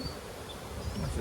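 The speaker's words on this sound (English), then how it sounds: "Bees have stayed nice and calm." Honey bees buzz steadily in an open beehive during a hive inspection, a faint, continuous close-up drone with no talking.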